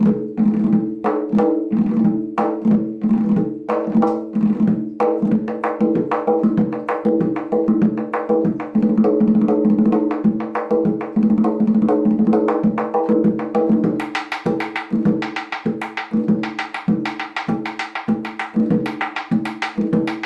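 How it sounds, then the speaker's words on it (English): A Persian tombak hand drum is played in quick, rhythmic strokes with deep resonant tones and sharp rim slaps, steady and close throughout. "the regular tombak playing would sound something like this"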